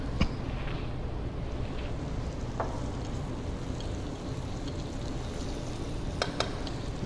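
Food sizzles and fries steadily in a hot pan during a live catering cook, a constant crackling hiss with a few sharper pops and stirring clicks, no voices.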